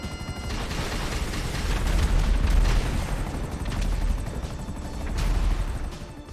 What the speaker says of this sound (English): On top of the revamped machine gun, I gave the Savage the brand new homing Barrage.